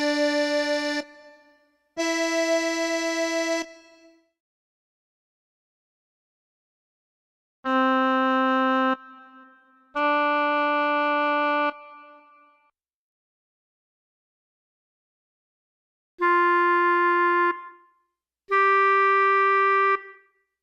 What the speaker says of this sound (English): Notes with an up pitch sound like this.